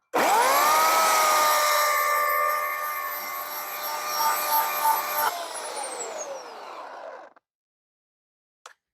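An Oregon CS1500 18-inch electric chainsaw cutting a notch in wood: a loud, close motor whine that revs up instantly, holds and wavers through the cut, then winds down and stops, followed by a faint click.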